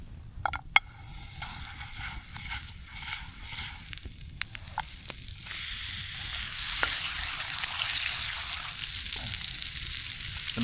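Montreal steak frying in a pan at a winter riverside tarp camp, giving a steady, close sizzle and crackle with occasional louder pops and no talking.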